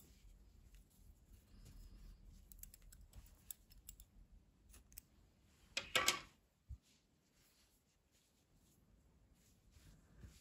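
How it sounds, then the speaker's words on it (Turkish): Scissors snip through crochet yarn during a project, giving a few faint, close clicks followed by one brief, louder cut in an otherwise quiet room. "İpliği kesiyorum."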